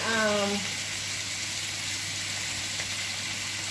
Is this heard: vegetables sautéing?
yes